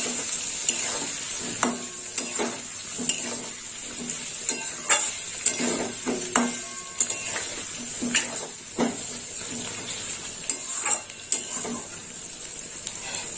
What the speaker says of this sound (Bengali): কাঁচা লঙ্কা আর আদা দিয়ে দিলাম আদা কাঁচা লঙ্কা একটু কষিয়ে নেবো